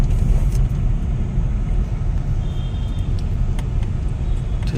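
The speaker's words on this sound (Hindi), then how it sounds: "ठीक है, थोड़ा सा यहाँ पे ट्रैफिक है।" Road traffic on Old Palam Road in Delhi, heading toward Najafgarh and Dwarka, rumbles as a loud, continuous wash of car, bus and truck engines close by.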